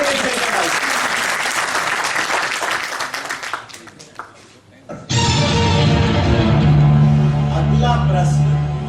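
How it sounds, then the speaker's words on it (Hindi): Audience applause at a stage play, a dense burst of clapping that fades out, followed by someone speaking over music. "तालियां"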